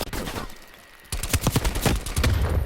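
Suppressed SMG fire in a first-person shooter video game, a burst of rapid muffled shots after a brief lull, loud and close with dense overlapping game sounds.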